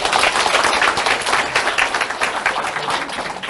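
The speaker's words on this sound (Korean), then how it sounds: "다시 한번 큰 박수 부탁드립니다" An audience at a business seminar claps warmly, a dense, steady round of applause at full strength throughout the short stretch.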